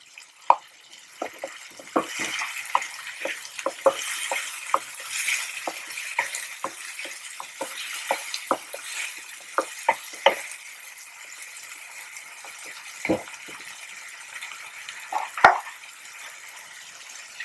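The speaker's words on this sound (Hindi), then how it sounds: "अदरक को भी थोड़ा सा ही भूनना। और ये टमाटर डाल देंगे।" Tomatoes are dropped into ginger frying in a pan, giving a steady soft sizzle broken by repeated sharp clicks and scrapes of stirring, fairly close and with no talking.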